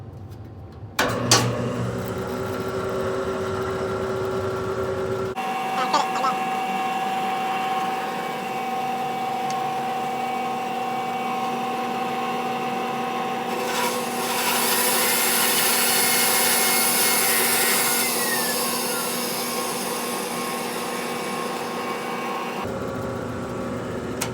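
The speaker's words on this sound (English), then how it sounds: "I'll do the detail like this and this and that on the belt sander over there" A belt sander shapes a red oak beer stein handle, a loud continuous whirring hum with a steady tone that shifts in pitch and grows harsher as the wood is pressed in, starting and stopping abruptly.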